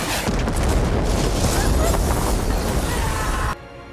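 A missile strike destroys a building in the war film Outside the Wire, a dense, roaring blast and rumbling debris that fills several seconds loudly before cutting off abruptly.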